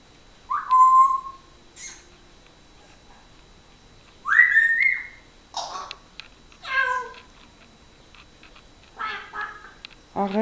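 An African grey parrot imitates a cat with several distinct meow-like calls and whistles, spaced out and fairly loud against a quiet room.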